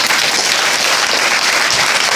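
Applause from a school audience of students at a talk, a dense, steady clapping that fills the whole short stretch with no voices over it.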